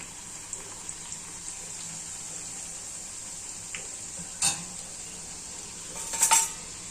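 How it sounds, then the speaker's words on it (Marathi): Puri deep-frying in hot oil makes a constant, even hiss, broken by a couple of sharp utensil clinks near the end. "बघा छान अशी पुरी तळून येत आहे।"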